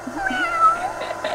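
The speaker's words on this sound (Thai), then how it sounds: "เป็นแมวตัวนึงนะครับที่แบบเล็กที่สุดในบ้าน" A small, thin house cat meows close by in a few short, plaintive calls, with a strained, wailing edge, and no one speaking.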